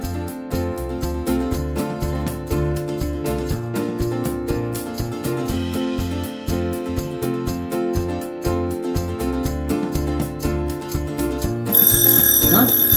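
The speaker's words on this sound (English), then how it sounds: "Egg timer went off." A kitchen egg timer goes off during baking, a loud mechanical bell ringing in rapid repeated bursts that carries on steadily, close by and with no talk.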